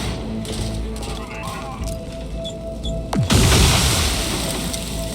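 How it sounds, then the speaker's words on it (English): Gunfire between other characters in The Outer Worlds 2 video game: scattered distant shots and taps, then a sudden loud boom that leaves a sustained roar of noise. "just gonna wait out them shooting it out"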